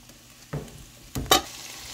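Aromatics dropped into hot oil in a pot for a Jamaican brown stew snapper, giving a few short bursts of sizzle and spatter over a low background hiss, with no talk.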